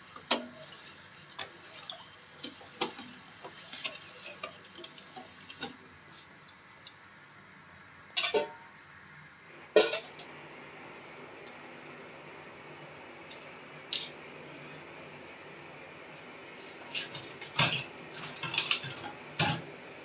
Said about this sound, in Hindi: इसको हिलाते जाए, जितनी देर तक इसकी चीनी पिघल ना जाए, इसको हिलाते जाए।